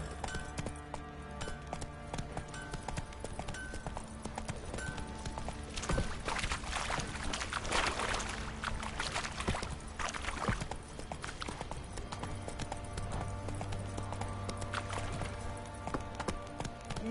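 Horse hooves clip-clop in a steady galloping rhythm while riding in the video game The Witcher, continuous and moderately close, with brief faint vocal urging.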